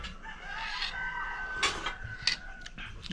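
Chickens cluck in a farmyard, with a rooster's crow rising near the middle and a few sharper squawks over low background noise.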